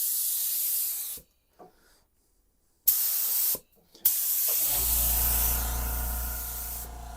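An Iwata split nozzle HVLP spray gun sprays thick primer in bursts, a steady airy hiss broken by two short pauses, with a low air compressor hum starting up underneath in the final seconds.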